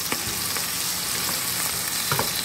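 Onions fry in a pan for mutton curry, giving off a loud, even, close-up sizzle broken by a few soft stirring knocks.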